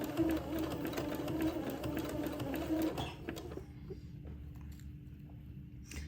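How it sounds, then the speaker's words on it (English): A sewing machine zigzag-stitches lace onto entredeux for a Christmas dress, a rapid steady mechanical whirr running for about three seconds before stopping, leaving a quiet background hum. "I will zigzag this lace to the entredeux"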